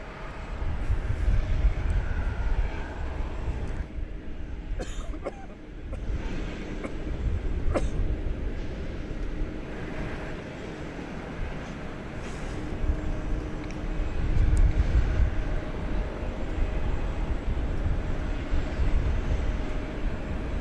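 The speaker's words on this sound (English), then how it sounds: "as we watch the EVA Air 777 go bye-bye" An EVA Air Boeing 777 airliner departs DFW Airport, its jet engines a steady, distant low roar that swells slightly and fades, with no voices.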